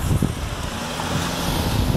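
A car rolls past on an open road near someone walking outdoors, a steady broadband road rush with wind buffeting the microphone throughout.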